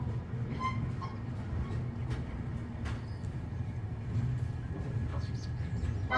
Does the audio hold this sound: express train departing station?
yes